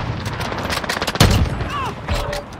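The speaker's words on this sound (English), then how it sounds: "I'm taking fire!" Gunfire crackles in Call of Duty Modern Warfare during a hardpoint match, with rapid bursts of shots and one heavy blast midway, loud and close with game sounds around it.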